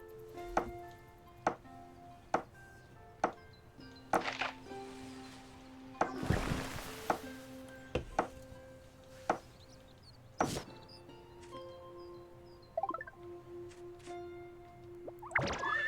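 Chopping in the Harvest Moon: Winds of Anthos video game: a series of sharp, separate thwacks and knocks spaced a second or two apart over soft game music, with one longer whooshing burst midway.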